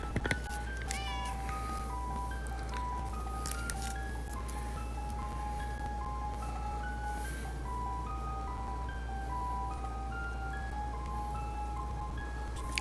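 A pet cat meows repeatedly alongside a bright, repeating melody and a steady low hum, the cries rising and falling through the whole stretch.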